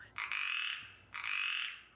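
A western chorus frog gives two rising, rattling trills, each under a second long, close and clear against a quiet background.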